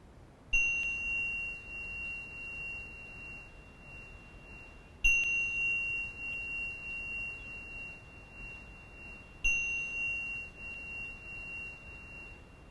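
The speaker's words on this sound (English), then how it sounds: "And pausing for our final moment with the bell." A bright, high bell rings three times at an even pace at the close of a yoga session, each strike sustaining a clear ringing tone that fades slowly over quiet background.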